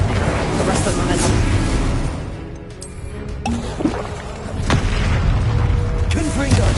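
A dense run of spell blasts and explosions from the video game Hogwarts Legacy, including Confringo, Incendio and Repulsor, with loud continuous booming and rumble, a brief dip midway, and small pops over the top.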